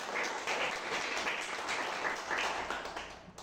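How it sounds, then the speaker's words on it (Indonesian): A small group of students claps for a classmate in a classroom microteaching session on ecosystems, a faint, steady patter of hand claps sustained throughout without talk. "Berikan tepuk tangan kepada Angel"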